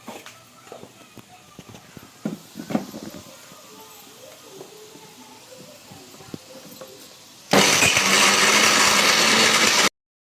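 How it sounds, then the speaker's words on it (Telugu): A mixer grinder whirs loudly and steadily for about two seconds, grinding green chillies, garlic and salt for a pachadi, after a stretch of quieter kitchen clatter and handling. "తీసుకొని అంతా కలిపి మిక్సీ పడుతున్నాం."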